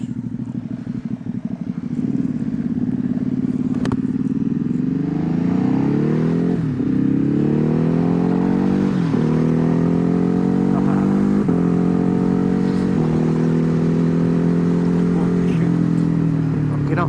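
Loud motorcycle exhaust droning while riding, a Ducati HyperMotard or KTM on a ride through Wales, with steady engine tone rising and falling through gear changes, plus wind rumble close to the rider.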